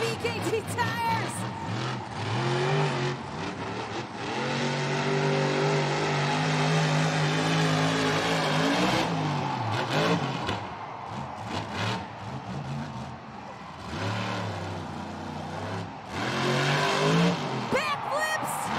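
A monster truck engine roars and revs continuously through a freestyle run on three working BKT tires, with surging throttle and rumbling, under loud announcer commentary and crowd noise.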